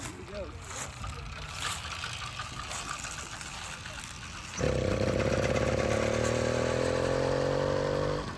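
A motorcycle engine, fitted with a new cylinder head and parked out on a road, fires up abruptly after a stretch of low rumbling background. It then idles loudly and steadily up close, with no talking over it.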